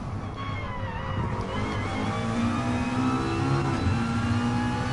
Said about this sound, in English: Michael is almost starting his hot lap in the McLaren 650S GT4